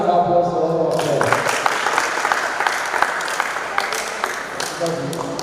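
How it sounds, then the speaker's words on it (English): An audience at a morning breakfast show applauds young performers, a sustained burst of clapping that starts after a brief spoken moment and continues steadily with distinct sharp claps near the microphone. "Please, a round of applause for all of them."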